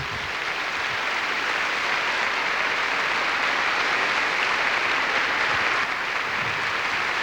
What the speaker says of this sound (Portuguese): Vamos aplaudir o altar de Deus.